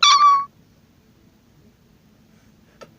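A voice imitating a cat meow sounds once, a short, loud, tonal mew at the start, followed by near silence with a faint low background hum and a tiny click near the end.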